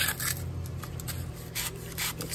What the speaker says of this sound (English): so I'm just gonna give it a little sanding on the outside here.